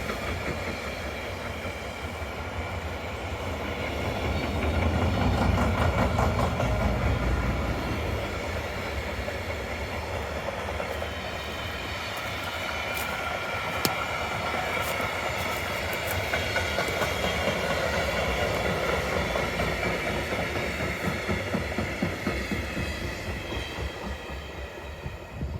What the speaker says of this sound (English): It's just a nice spot to go look at the trains.